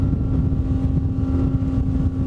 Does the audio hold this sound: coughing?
no